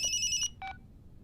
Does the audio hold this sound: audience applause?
no